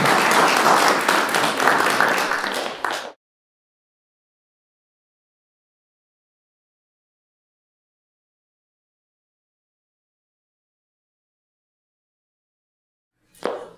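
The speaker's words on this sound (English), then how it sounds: "Round of applause." An audience claps for about three seconds of dense, steady applause, then there is a long stretch of silence and a brief burst of sound right at the end.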